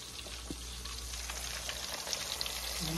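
Baby back ribs coated in flour fry in hot grease, giving a dense, steady sizzle with scattered pops, close and continuous without speech.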